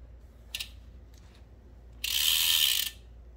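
A bicycle crank is spun and the freewheel ratchets. A brief tick comes first, then a quiet, rapid, buzzing clicking run of about a second over low background hum.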